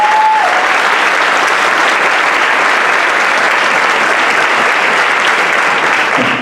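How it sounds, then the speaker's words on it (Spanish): A large audience at a commemoration of the Spanish exile in Veracruz gives loud, dense, sustained applause, continuous clapping filling the whole stretch with no talk. "Sí les pido un gran aplauso"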